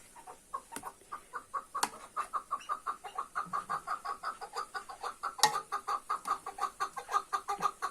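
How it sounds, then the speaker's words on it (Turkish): Rapid, rhythmic clucking calls of partridges repeating steadily in a vegetable garden, fairly quiet, with a few sharp clicks mixed in. "Kekliklerimiz ötüyor arkadaşlar."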